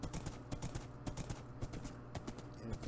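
Hooves of a ridden horse in a video game, clip-clopping in a steady, brisk rhythm at close range over a low background bed.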